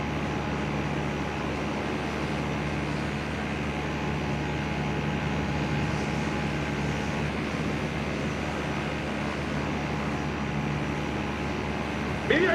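An airplane engine drones steadily in flight in a video game, a constant, even hum with tonal layers that holds unchanged throughout and ends with a brief bump.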